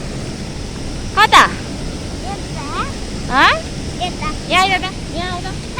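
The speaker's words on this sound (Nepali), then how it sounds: "एकदमै खतरा भएछ खोला, हेर्न सक्नुहुन्छ।" A swollen, dangerous river in Nepal near a bridge and a fishing spot rushes with a steady broadband roar. Close voices talk over the water continuously.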